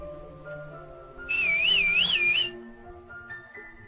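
A loud, warbling whistle rises and falls over about a second, clear above quiet background music.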